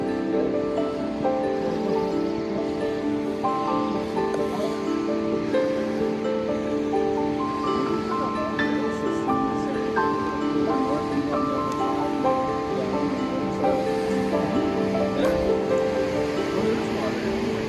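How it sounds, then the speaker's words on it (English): A river rushes continuously below the Kinsol Trestle Bridge, a steady broad roar of flowing water heard from nearby, with people talking over it at times. "Full on river."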